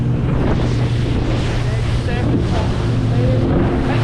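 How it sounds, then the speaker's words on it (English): Ocean waves break and rush while a boat rides the open sea, heavy wind buffeting the microphone throughout, a continuous loud roar of surf and gusts. "there's waves breaking"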